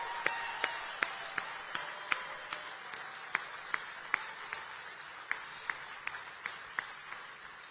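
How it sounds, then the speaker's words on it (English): Audience applause at a JD Vance event, a room full of people clapping steadily for several seconds, with sharp individual claps standing out above the dense wash of hands. "Let's give Sarah a round of applause"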